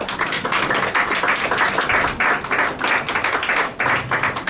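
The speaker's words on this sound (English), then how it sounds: "Let's give them a round of applause as they leave" Audience applause at a United Nations side event as ministers depart, a dense, steady clapping from a large crowd that fills the whole stretch with a slight dip near the end.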